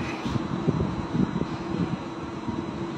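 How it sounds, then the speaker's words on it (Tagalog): Strong wind rushes and buffets against the microphone in a continuous, gusting roar with low rumbling pulses. "Mahangin sa labas."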